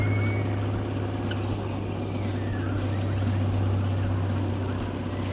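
Water runs steadily from a Bushranger gas hot water system, a continuous close rushing flow with a low steady hum underneath, with no voices.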